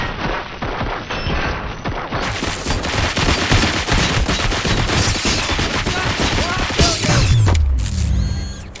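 Dense, sustained gunfire from the RoboCop: Rogue City game, a loud continuous barrage of shots and impacts lasting throughout, with a brief mechanical clatter and low thud near the end.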